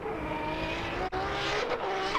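A Nissan S13 drift car at a Formula Drift Prospec qualifying round, its tires squealing in a loud, sustained screech over a roaring engine, with a brief dip in the middle before the squeal carries on.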